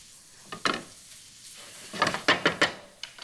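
Shredded Brussels sprouts sauteing in a hot pan, a soft sizzle broken by a few sharp stirring scrapes and clatters of utensil against the pan, close and moderately loud with no talking.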